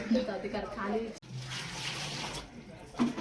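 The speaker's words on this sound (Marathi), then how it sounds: "इकडे पाणी बघा कसलं वरपर्यंत आम्ही पाणी भरून घेतोय" Water runs into a container being filled right up to the top at a home in Konkan, a steady gushing rush heard up close between bursts of speech from people nearby.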